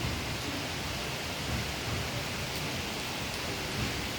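Steady rain falls continuously, a dense, loud hiss of drops on surfaces that stays even throughout, with no voices and no distinct thunder.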